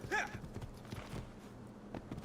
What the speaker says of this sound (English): I'll take the other horse now.